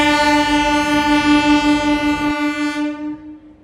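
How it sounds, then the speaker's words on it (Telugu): A Vizianagaram MEMU train passing a station platform sounds one long, loud, steady horn blast that cuts off and leaves a fading ring. "ఏదో ట్రైన్ వస్తుంది ఏంటి? ఓ హాంకింగ్ వినిపిస్తుంది."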